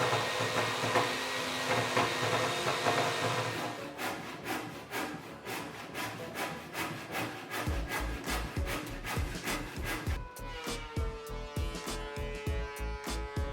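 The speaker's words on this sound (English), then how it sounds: "In fact, I actually resorted to a handsaw instead," A handsaw cuts through a red oak board in steady back-and-forth strokes. The strokes are close and rhythmic and speed up partway through, with a rasping wooden edge to each pass.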